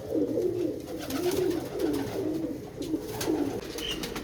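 Pigeon cooing close by beside a catching net, a run of soft rolling coos repeating steadily over a faint background hum, with no talk.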